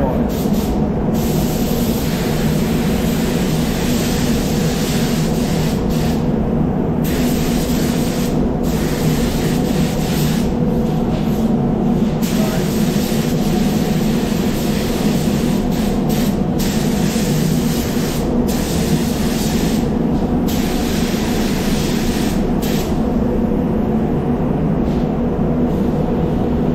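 A spray gun lays glitter paint onto a servo already painted black, giving a steady, loud hiss that runs without a break throughout.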